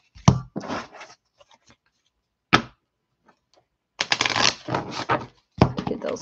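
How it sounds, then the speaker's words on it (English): Tarot cards being shuffled by hand in close, crisp riffling bursts separated by brief pauses and a sharp tap, with no talk over them. "that's probably enough shuffling to get us a good smattering"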